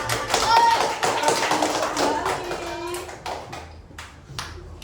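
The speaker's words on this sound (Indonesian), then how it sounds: "Tepuk tangan dong" Classroom audience clapping after a student group finishes its presentation, a scattered patter of hands with voices chattering over it, fading toward the end.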